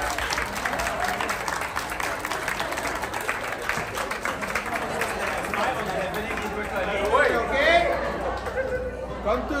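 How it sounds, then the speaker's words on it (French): A group applauding at a studio group photo session, scattered clapping mixed with busy chatter and laughter from people close by, the voices growing louder near the end. "Et on s'applaudit tout le monde, merci beaucoup"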